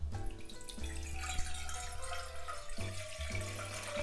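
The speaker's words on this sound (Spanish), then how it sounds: "Empezaremos poniendo nuestra agua en nuestra ollita" Water poured from a tap into a small cooking pot in a home kitchen, a steady close splashing and filling sound with a humming tone underneath, running continuously with no talk.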